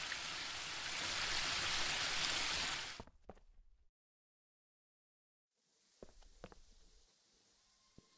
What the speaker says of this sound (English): The waterfall and I have been neighbours for so long that I don't really hear it anymore.